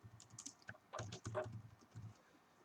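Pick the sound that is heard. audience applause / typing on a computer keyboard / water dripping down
typing on a computer keyboard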